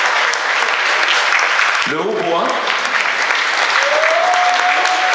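Audience applause for the clarinet section of a community orchestra at a concert in La Grand Combe, steady and dense throughout, with a voice speaking over it partway through.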